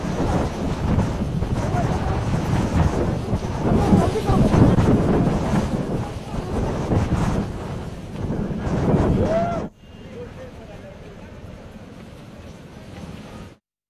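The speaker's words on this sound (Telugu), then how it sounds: "ఈదురుగాలుల బీభత్సానికి టెంట్ కూలిపోవడంతో వైసీపీ ఎంపీలు ఏపీ భవన్ లోపల దీక్ష కొనసాగిస్తున్నారు" Strong gusty wind roars across the microphone during a hunger-strike protest at AP Bhavan, where the gusts brought down the protest tent. The buffeting is loud and continuous, then drops suddenly to a quieter background near the end.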